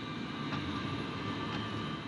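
Turbofan jet engines of an Antonov An-124 Ruslan cargo plane produce a steady, loud, broadband roar with a faint whine, holding constant throughout.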